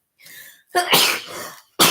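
One close sneeze: a soft wheezy intake of breath, then an explosive burst, with a second sharp snort right at the end.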